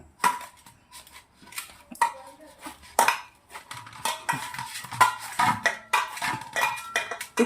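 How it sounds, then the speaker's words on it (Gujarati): Potato and flattened rice poha mixture is mashed and mixed in a steel vessel, giving irregular soft squelches and repeated bright metallic clinks and knocks at close range, with no talking. "મસળી અને રેડી કરી દેવાનું છે આપણે થોડી મહેનત લાગે પણ આવી રીતના મસ્ત મજાનું મિક્સ થઈ જાય"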